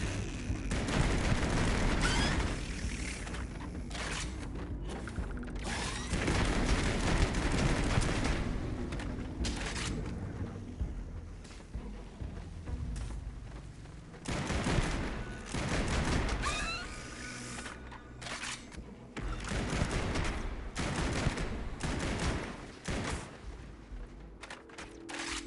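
Starfield sci-fi combat: repeated heavy shotgun blasts boom out in irregular bursts across a long firefight, loud and close, with mechanical clatter between shots.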